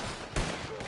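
Gunfire in the Western online shooter Red Dead Online: one sharp, loud shot cracks out just before midway through a short, dense burst of game noise, with a fainter report near the end.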